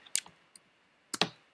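A few quick, close keystrokes on a computer keyboard, sparse clicks in two short bursts with quiet between them.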